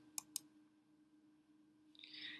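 Two sharp mouse clicks in quick succession, close and distinct, as an iOS option is picked on screen, followed by a soft rustle.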